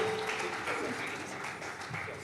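An audience at a literary festival event in Odisha claps to welcome the Deputy Chief Minister on stage, a moderate, steady patter of applause in a large hall.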